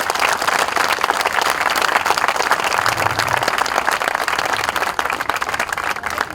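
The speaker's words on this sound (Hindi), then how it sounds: "जोरदार तालियां प्लीज।" Loud, sustained crowd applause and clapping from a large gathering at an outdoor protest against mandatory vaccination, steady and dense throughout.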